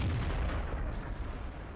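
A light tank's cannon fires in the World of Tanks video game, a single heavy boom at the start that rolls off into a rumbling decay over the next second and a half, with no talk.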